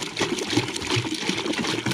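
Water pours and trickles steadily for bees, a close, continuous liquid splash and gurgle with no talking.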